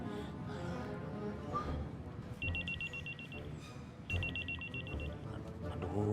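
A telephone rings in two clear electronic bursts of rapid trilling beeps, spaced about a second and a half apart, over a quiet background with faint music.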